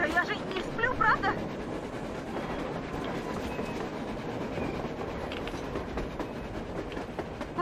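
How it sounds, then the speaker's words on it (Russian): A steam locomotive rumbles past in the Metro Exodus video game, a steady low rolling roar with faint rhythmic clatter that holds at an even loudness, while voices speak at the start. "паровоз! Откуда же?"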